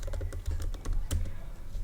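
Rapid, light keystrokes on a computer keyboard as a terminal command is typed, close and fairly quiet, with no talking.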